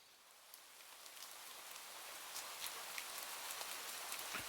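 Rain begins falling outdoors during a walk, a soft, steady hiss of drops that gradually thickens with scattered sharper patters.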